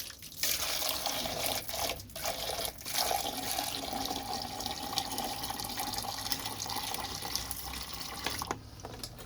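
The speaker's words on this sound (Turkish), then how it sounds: "Bak buraya bu yumurta kabuklu sudan dökeceğim arkadaşlar." Eggshell-infused water poured onto potted cactus plants, a close, steady splashing trickle that runs continuously with a few brief pauses.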